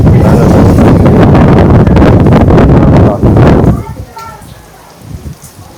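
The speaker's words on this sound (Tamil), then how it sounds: "சடனாக மழை வந்துருச்சு." Heavy rain and strong typhoon-like gusts hit the mountain town of Jiufen, a loud, dense roar of wind buffeting the microphone with rain that drops away abruptly to a quieter patter with faint voices near the end.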